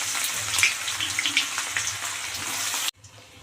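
Chopped onion is tipped into oil frying whole cumin seeds and bay leaf, giving a close, bubbly sizzle with crackling pops that stops abruptly near the end.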